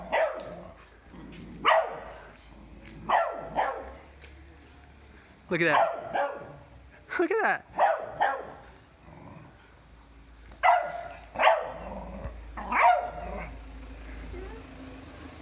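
A dog barks in short bursts, about a dozen sharp yips spread across the clip, close by, with a person talking between the barks.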